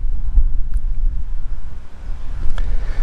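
Steady low wind rumble buffets the microphone outdoors among bantam chickens, with a couple of faint clicks and no talking.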